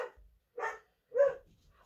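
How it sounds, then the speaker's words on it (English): A dog barks three times, short and somewhat distant, spaced apart with quiet gaps between. "Sorry about the barking in the background."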